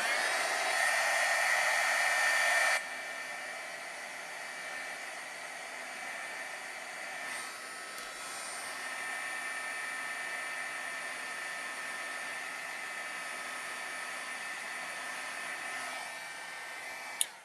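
A heat tool blows steadily while drying watercolor paint, a continuous close airy whoosh that is louder for the first few seconds, then settles to a slightly quieter constant hum.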